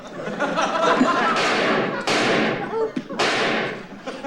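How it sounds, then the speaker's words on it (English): Loud gunshot sound effect from an old man firing at a neighbor in a sitcom, a few sharp broadband bangs about a second apart, each tailing off, under audience laughter and speech. "Dad's shooting at Mr. Kirby again."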